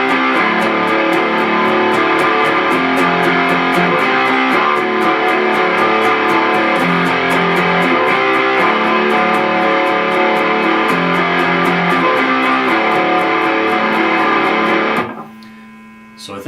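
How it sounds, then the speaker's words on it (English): Distorted electric guitar rings out open, unmuted chords in a loud, steady, driving rhythm, sustaining for about fifteen seconds before cutting off abruptly. "the rhythm underneath the guitar solo is going to be those same chords, only not palm muted"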